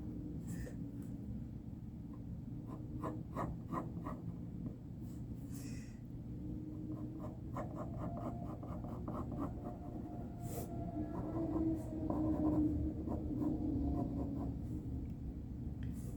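A pencil drawing on paper gives soft intermittent scratchy strokes, faint and close, over a low background rumble.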